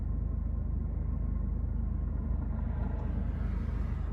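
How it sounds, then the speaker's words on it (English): Cars pass on a residential road, heard as a steady low rumble from a car's open window, fairly faint and without speech. "I just hear some of these cars driving down Ridgeview"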